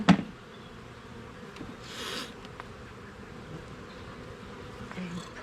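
Honeybees buzz in a low, steady drone around a hive frame with queen cells, close and moderately quiet, with occasional louder passes as individual bees fly near.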